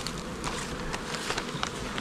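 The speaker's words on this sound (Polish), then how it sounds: "Tam się takie pszczoły rabujące tutaj pojawiają." A dense, steady buzzing of many robber bees swarming around a beehive nearby, fairly loud and continuous, with faint tapping underneath.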